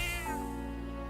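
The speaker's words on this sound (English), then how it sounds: "That's a good kitty." Cat meowing in the video game Metaphor: ReFantazio: a single drawn-out meow that slides downward in pitch, close and clear over steady background game music.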